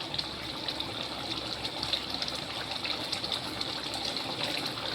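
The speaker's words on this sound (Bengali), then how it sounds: "ভালো করে জল দিয়ে, ফ্রেশ জল দিয়ে ধুয়ে রান্না করলে আর কোনো গন্ধ থাকে না" Meat being rinsed under fresh running water, a steady, continuous gush and splash held close and fairly loud throughout with no pauses and no talking.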